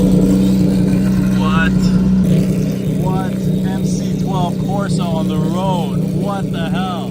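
A Maserati MC12 Corsa running on the road gives a constant low engine drone throughout, with people talking over it.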